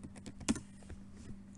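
Key presses on a computer keyboard while a passphrase is entered for SSH key creation, a short run of quiet, uneven clicks with one slightly louder tap, close to the mic with no talking.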